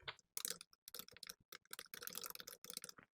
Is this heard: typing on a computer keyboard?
yes